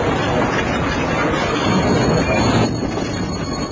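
A narrow-gauge train rolls along the Kaszó forest railway in Hungary, a loud, continuous, broadband rumble and hiss of wheels on rails that eases slightly near the end.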